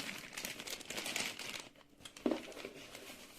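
Plastic and cardboard packaging of a Nintendo Switch OLED being opened, with steady close crinkling and rustling through most of the stretch and a brief pause before a sharper tear near the end.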